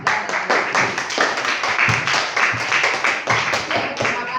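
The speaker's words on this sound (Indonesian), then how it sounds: "kalau cukup tepuk tangan buat kelompok 4" Classroom students clapping for a presenting group, a burst of fairly loud, slightly uneven hand claps close by, continuing steadily for a few seconds without talk.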